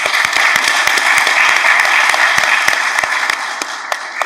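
An audience at a press conference applauds the women being honoured, producing dense, sustained clapping that stays loud and even throughout, with no voices over it.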